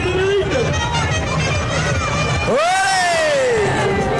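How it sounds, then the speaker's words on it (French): Carnival crowd at the Vitré carnival cheering and whooping for a passing float team, a dense outdoor roar of many voices with shouts rising over steady babble throughout. "on va les applaudir, s'il vous plaît, un maximum de bruit pour les accrocheurs"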